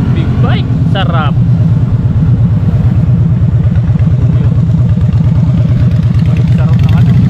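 Big bike motorcycles pass close by, their engines thumping in a rapid, rhythmic beat that stays loud and steady throughout. Excited voices call out over the engines, with a couple of short whoops near the start.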